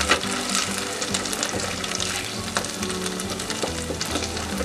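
Paneer cubes frying golden in a pan for chili paneer, with loud continuous sizzling and spatter close up, plus scraping stirs and a watery hiss throughout.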